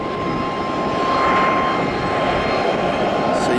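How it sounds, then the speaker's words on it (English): Embraer ERJ145 jet engines starting up at an airport gate, a steady broad roar with a thin whine that builds slightly, heard from a distance across the ramp. "the Chicago flight just starting up its engines now at the gate."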